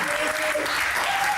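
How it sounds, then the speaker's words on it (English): A studio audience breaks into steady, dense applause on a reality-show set, loud and close, with voices mixed underneath. "You even get an applause."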